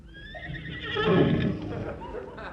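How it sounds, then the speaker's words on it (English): A horse whinnies as a radio drama sound effect, a single rising and falling neigh lasting about two seconds, fairly close and clear with no talk over it. "The poor horse likes it here."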